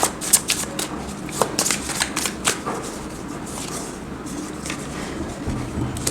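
Tarot cards are shuffled by hand at close range, a run of crisp papery riffles and snaps that are busier at the start, then settle into softer shuffling.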